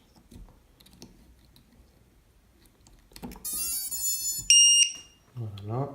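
An FPV drone's small onboard buzzer beeps in a rapid high-pitched burst as its battery is connected, after quiet clicks and handling noise; a voice follows at the end.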